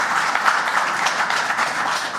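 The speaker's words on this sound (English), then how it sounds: "Let's give him a round of applause." An audience at a New York City transit (MTA) event gives a round of applause, a dense, even wash of many hands clapping continuously at moderate volume throughout.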